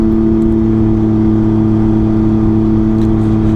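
Can-Am Ryker with a Treal Performance stage 2 clutch and very loud exhaust, accelerating to 40 mph: a steady, loud droning engine hum with strong tonal harmonics held throughout.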